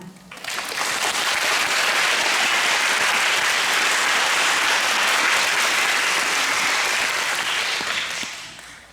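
Dense, loud applause from a concert audience at the end of a piano recital, rising quickly and holding as a continuous wash of claps before tapering off at the close.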